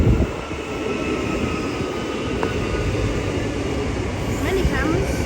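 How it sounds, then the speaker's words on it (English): A Mandurah-bound train at Cockburn Central Station during peak hour, a steady broad rumble and rolling hum held throughout the short stretch with faint higher squeals near the end. "that's just a Mandurah bound train"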